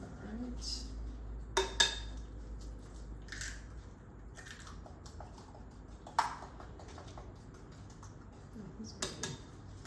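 Batter being mixed in a bowl while eggs are added, with scattered clinks and knocks of utensils against a dish, quiet and close, under low background noise.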